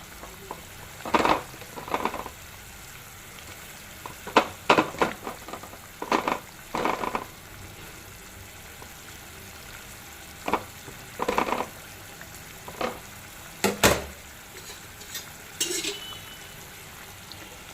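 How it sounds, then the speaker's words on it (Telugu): Fish pieces simmer in a boiling curry, with soft bubbling under intermittent bursts of sizzle and stirring that come and go in short clusters, close by and with no talking. "ఇప్పుడు ఫిష్ ముక్కలు వేసేసుకోవాలి"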